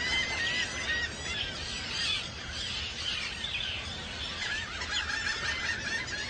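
Dense, continuous calling from a large seabird colony on an island, harsh overlapping cries filling the air without pause, steady and moderately distant.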